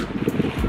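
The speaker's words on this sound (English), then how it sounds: "it is windy out here" Outdoor wind buffets the microphone in a short, steady rumbling gust, loud and close, with a faint rustle on top.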